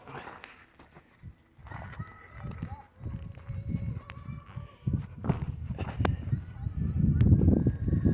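A horse's hooves clip-clop along a steep mountain trail on Table Mountain, with irregular, moderately close steps and scuffs building in loudness, while people talk nearby.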